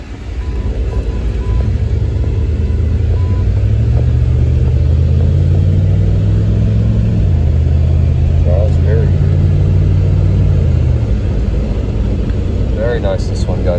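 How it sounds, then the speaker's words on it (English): A 1998 Jeep Grand Cherokee Limited with a 5.9 V8 rumbles steadily on a test drive, its engine tone rising and holding at a low, loud drone, with road and cabin noise throughout. "Let's go for a test drive."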